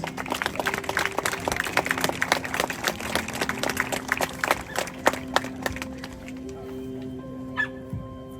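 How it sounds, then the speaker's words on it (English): At an outdoor Walk to End Alzheimer's gathering, a crowd claps in a rapid crackling patter. A dog yips and whimpers now and then, and the clapping thins toward the end. "So let's give everyone up here a round of applause."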